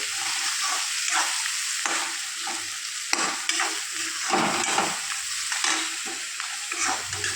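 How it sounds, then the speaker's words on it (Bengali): A spatula scrapes rhythmically around a pan of tomatoes frying with soybean, a steady series of stirring strokes riding over a constant close sizzle. "দিয়ে আমি বেশ কিছুক্ষণ নাড়াচাড়া করে নেব"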